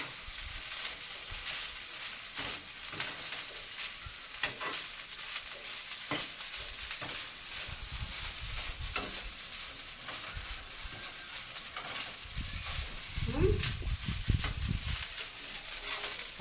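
Garlic chili rice with onions fries in a pan, giving a soft constant sizzle with occasional stirring scrapes and a few louder stirs near the end, fairly quiet and without talk.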